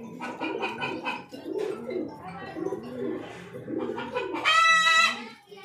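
Fancy pigeons, a Lotan breed among others, coo in a home loft with several soft throaty coos layered close by, rising into a louder, clearer bird call near the end.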